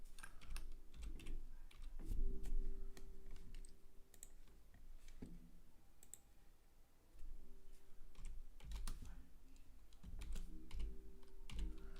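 Typing on a computer keyboard, close and fairly quiet, with rapid clusters of key clicks in uneven bursts and brief pauses, heard alone without talk.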